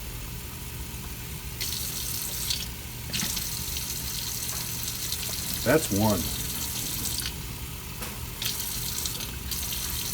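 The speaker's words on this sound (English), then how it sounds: "So then we're going to add 1 1/3 cup of water." Tap water runs steadily as it is measured and poured into pancake mix for a batch of batter, a constant close hiss with a brief swell midway and a few spoken words over it.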